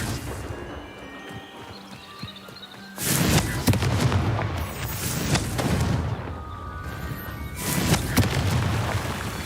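Explosive Confringo spell blasts from Hogwarts Legacy, two loud booming bursts a few seconds apart over a busy game soundscape, each with a long rumbling tail.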